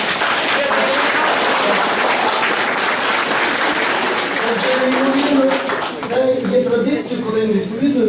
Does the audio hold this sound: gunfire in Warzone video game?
no